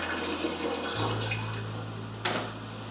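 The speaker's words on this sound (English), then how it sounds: "pour that into your boiling tank until it's about 3/4 of the way full" Water poured from a pitcher into the boiling tank of a SteamPure water distiller, a steady close splashing stream that deepens as the tank fills, with one brief louder splash near the end.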